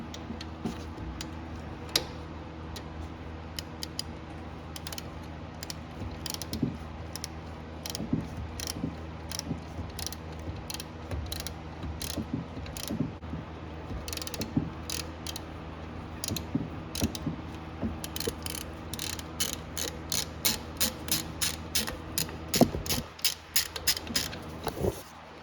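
A ratchet loosening the alternator bolt and belt on a Nissan D21 engine, with steady clicking runs over a low background hum, close and fairly quiet, becoming quicker and denser toward the end.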